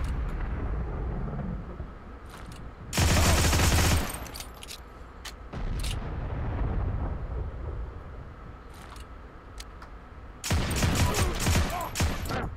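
An M1/M2 carbine fires on full auto in the video game Heroes and Generals, two loud sustained bursts with scattered single shots between, close and sharp.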